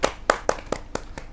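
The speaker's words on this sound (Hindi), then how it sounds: "जोरदार तालियों से स्वागत कीजिए सचिन सागर जी।" Audience at a Hindi poetry gathering clapping to welcome a poet, six separate hand claps spaced out over about a second, close and distinct with no voices.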